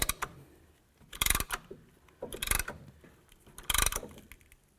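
Dual caliper pistons on a 2015-20 GMC Yukon front brake being pushed back in together, making three separate bursts of ratcheting, grinding mechanical clicks with quiet gaps between them, close by.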